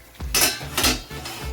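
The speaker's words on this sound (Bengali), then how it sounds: "এবার আমরা ঢাকনাটাকে আলগা করলাম" A metal lid is loosened on a pot of simmering karahi chicken, giving three quick close metallic clanks and scrapes in an uneven rhythm.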